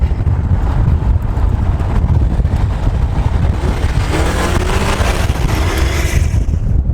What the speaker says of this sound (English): you get a little bit more turbo noise inside the car, which is kind of awesome